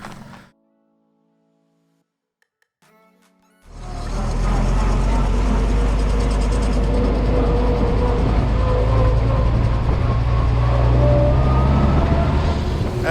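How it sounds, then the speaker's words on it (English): A 1945 Ford GPW Jeep drives off after a moment of near silence, its engine and road noise rising into a loud, steady, rumbling drone with rattling wind and bouncing mechanical noise throughout. "we're going to go for a little bit of a drive"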